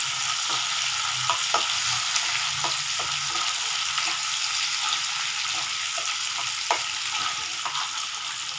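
A green chilli fries in a pan for mushroom masala gravy, with a constant close sizzle and regular ladle strokes scraping against the metal.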